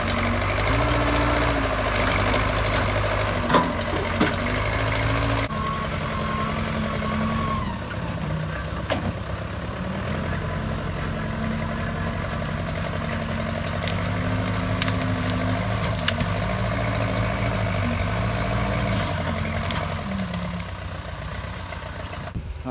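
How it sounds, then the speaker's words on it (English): A mini excavator engine runs steadily while digging around a farm pond, a continuous low diesel rumble near and loud, with slight shifts in pitch and load as the machine works. "we got the excavator out here, a little mini excavator"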